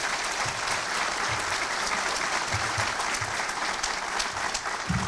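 A crowd applauds at a victory speech by Çeşme's newly elected mayor. Dense, steady clapping fills the whole stretch at an even level, with a few heavier thumps beneath it.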